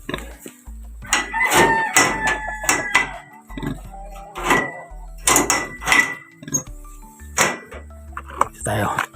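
Chickens cluck and a rooster crows repeatedly at a nearby chicken coop amid busy morning farmyard noise, with occasional clanking and people talking in the background.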